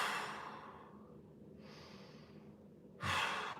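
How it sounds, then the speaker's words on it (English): Deep, slow breaths during a mobility workout, a long airy exhale fading out, a softer inhale, then a louder forceful breath, close to the microphone with no speech. "Let's go 3 big breaths here."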